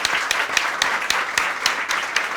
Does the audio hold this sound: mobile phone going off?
no